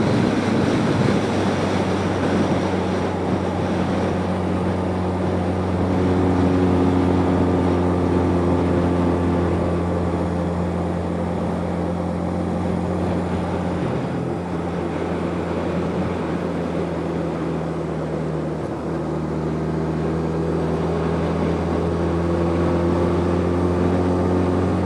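A Honda Nighthawk motorcycle engine drones while decelerating in a lower gear, a steady humming tone buried under heavy rushing wind, its pitch sagging and shifting at a couple of points.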